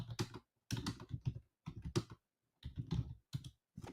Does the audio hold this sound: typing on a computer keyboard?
yes